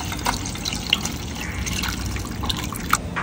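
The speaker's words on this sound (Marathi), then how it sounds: "ही आता आपण अखनी गाळून घेऊ।" Chicken yakhni stock strained after pressure cooking, heard as a close, steady trickle of liquid with scattered drips and splashes, alone without talk.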